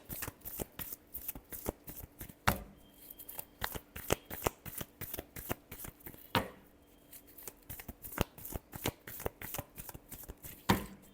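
Tarot cards are shuffled continuously for several seconds, a steady rhythmic patter of close papery slaps and flicks broken by a couple of sharper riffles, with no voice over it.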